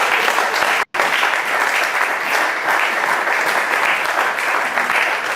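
A church congregation at Sunday worship applauds the Lord in dense, sustained clapping that fills the room, broken by a brief cut of silence near the start.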